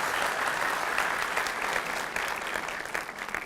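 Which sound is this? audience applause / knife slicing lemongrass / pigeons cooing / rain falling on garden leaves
audience applause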